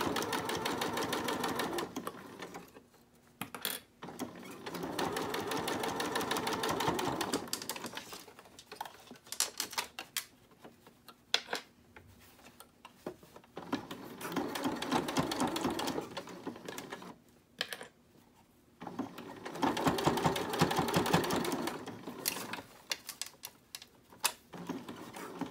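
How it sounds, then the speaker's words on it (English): Sewing machine top-stitching a cloth face mask runs in close, rapid mechanical bursts of several seconds, separated by short pauses and faint handling noises; no speech. "Stitch vertically with a few back stitches and start top stitching."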